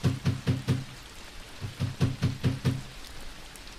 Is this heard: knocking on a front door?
yes